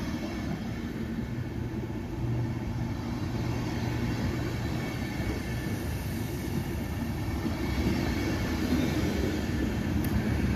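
An IC train hauled by a DB class 101 electric locomotive at a station platform, with a steady, rumbling low roar of moving rail cars that holds throughout and rises slightly partway, without speech.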